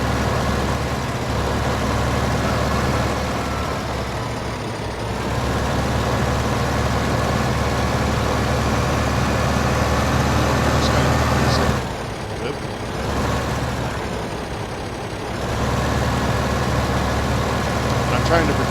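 Tractor in a farming video game runs with a steady engine drone and idle rumble, continuous and fairly loud, with brief dips and shifts in tone as it moves.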